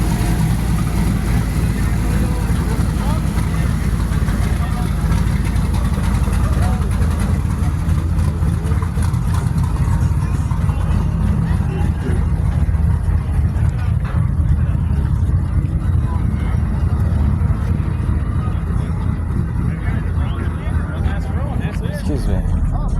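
A twin-turbo car engine idles loudly and close at a car show, a dense steady rumble with slight swells, while people talk nearby over it.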